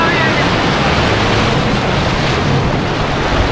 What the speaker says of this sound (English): We're walking on a sandbar here in Waikiki Beach.